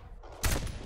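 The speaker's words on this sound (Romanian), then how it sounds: "Grenade launcher! Boom!" Grenade launcher blast in the shooter game Black Squad: a sudden heavy boom bursts in partway through, with a rumbling low-end tail that lingers for a moment afterward.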